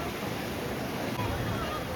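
Fast-flowing river current at Haridwar, a steady broadband rush of water close to the microphone, continuous and loud with wind buffeting mixed in.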